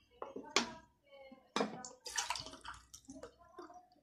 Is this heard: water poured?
yes